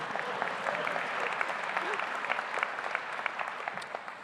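Steady audience clapping at a university convocation ceremony, a continuous moderate wash of many hands in a large hall, fairly distant and even throughout.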